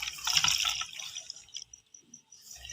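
Milk poured from a full glass into egg halwa in a pan, a close liquid splash and trickle that is loudest at first, then thins to scattered drips.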